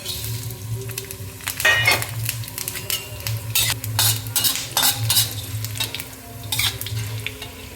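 Whole spices, cinnamon and black pepper among them, dry-roast in a pan, a light crackling sizzle under frequent scraping and rattling strokes of a metal spoon against the pan, close-up with no voices.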